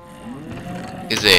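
Cows mooing in the Minecraft video game: one drawn-out, close bovine moo lasting about a second, with a brief brighter sound at the very end and no speech.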